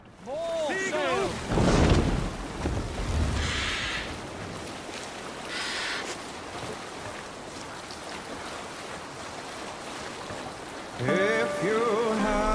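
A Viking longship sails across water in Assassin's Creed Valhalla, a steady, loud wash of waves and wind throughout, with voices speaking near the start and again at the end.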